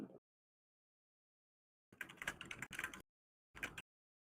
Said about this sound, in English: Sorry for the loud typing.